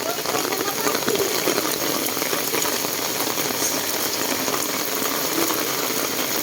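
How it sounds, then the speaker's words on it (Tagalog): Heavy rain pouring steadily during typhoon Carina and the monsoon, a dense, constant hiss of downpour close by with no pauses. "Ayan, bumuhos na naman ang ulan."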